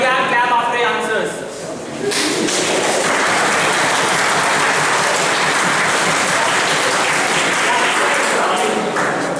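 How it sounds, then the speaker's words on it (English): An audience at a school election debate for academic affairs secretary in a gym breaks into sustained applause, loud and steady for several seconds after a brief voice at the start. "And if you want to clap after your answers."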